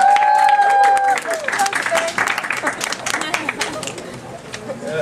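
An audience applauds contestants at a speaking competition, clapping spreading through the room alongside crowd chatter and an early whistle-like tone, then continuing more loosely under murmuring voices.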